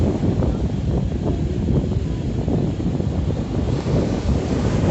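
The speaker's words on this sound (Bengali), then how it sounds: "জোয়ার থাকার কারণে ঢেউগুলো আরও বেশি বৃদ্ধি পেয়েছে এবং বাতাসের গতিও অনেক বেশি" Strong wind and high-tide waves at Kuakata sea beach in Patuakhali, a dense, continuous roar of surf and buffeting wind on the microphone, loud and unbroken throughout.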